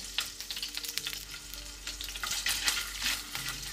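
Fish pieces frying in a pan for meze, a bright crackling sizzle with irregular pops and stirring scrapes, close and continuous with no talking.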